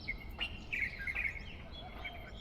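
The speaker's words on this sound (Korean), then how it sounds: "새소리가 되게 이뻐서 새가 어딨나 보려고 했는데" Birds sing outdoors in Shenzhen's Longgang district, several short, bright chirps and whistles at a moderate distance over a faint, steady background hum.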